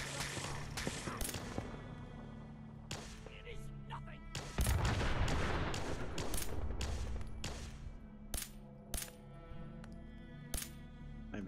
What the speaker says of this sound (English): just gonna let these idiots shoot and kill each other for a minute